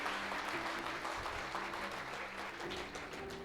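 A church congregation applauding during a service, a soft, continuous wash of clapping heard from a distance with faint tonal sounds beneath.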